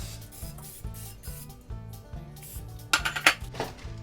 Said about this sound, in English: I'm just gonna take this muffin tin and spray it